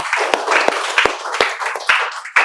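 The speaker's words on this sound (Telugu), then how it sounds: "క్లాప్స్." A small class claps hands in a spoken English lesson, with a handful of distinct, uneven claps ringing out close by and no voices in between.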